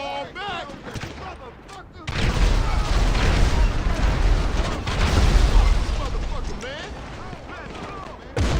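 Grenade explosions go off in the video game GTA 5 Online, a string of loud, heavy booms and blasts rumbling continuously for several seconds, mixed with game noise and some talk.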